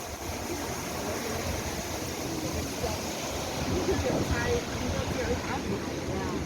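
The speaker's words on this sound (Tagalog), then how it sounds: "Ang hangin." Steady wind roars and buffets the microphone outdoors in Hong Kong, a continuous broadband rush with no clear pauses.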